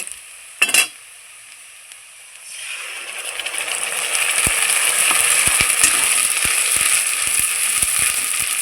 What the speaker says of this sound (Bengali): এবার আমি বেটে রাখা মশলাগুলো দিয়ে দিব